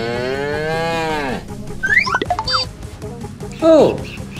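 A cow moos in a long, low drawn-out call, followed by scattered animal calls and rustling, then a short second moo near the end.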